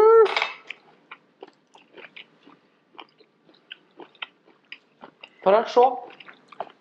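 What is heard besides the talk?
chewing raw apple and carrot salad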